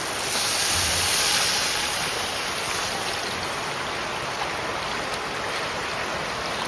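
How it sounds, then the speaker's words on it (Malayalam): Measured water pours steadily into a cooking pot holding ginger-garlic paste for ghee rice, a continuous close splashing gush that eases off slightly after the first second, with no voices. "ഇതിലേക്ക് നമ്മൾ അളന്ന് വെച്ച വെള്ളം കേട്ടോ"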